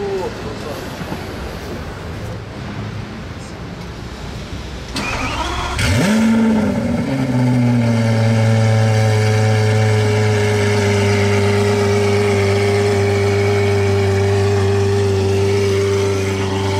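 A Lamborghini Aventador SVJ Roadster with a Gintani exhaust cranks and fires up with a sharp rev flare, then settles into a loud, steady, rumbling idle that holds to the end, with faint voices in the background.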